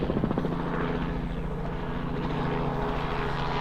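A military helicopter flies through a canyon in the Santa Ana Mountains near a pilot training area, its rotor chopping loudly and steadily throughout with a heavy engine drone and no voices.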